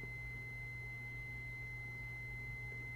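Continuity tester beeping as its two probes touch, a steady high electronic tone sounding continuously and fairly faint over a low background hum.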